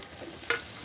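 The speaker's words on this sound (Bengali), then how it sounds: "ফ্লেমটা বাড়িয়ে হতে দেবো, বেগুনটা ভাজতে দেবো" Eggplant fries in a pan over a raised flame, giving a quiet, soft sizzle broken by one brief sharp scrape of stirring midway.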